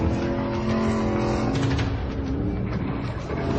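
A Ford Raptor truck in GTA IV churns off-road with all four wheels spinning: a steady, loud engine roar with tyre scrabble, holding constant for a few seconds and no talking.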